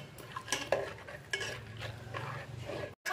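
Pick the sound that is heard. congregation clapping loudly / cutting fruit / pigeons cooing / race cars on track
cutting fruit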